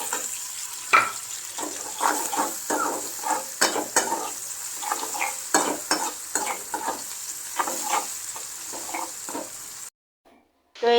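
Salted onions frying in a pan, stirred so the utensil scrapes repeatedly in an uneven rhythm over a constant close sizzle, before a brief silence near the end.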